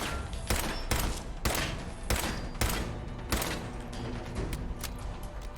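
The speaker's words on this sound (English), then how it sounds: "I'll actually just shoot this guy from" Gunfire in the Fallout 4 video game while shooting an enemy near Fog Canyon: a rapid series of sharp, loud shots in irregular bursts, with faint clanking mechanisms between them.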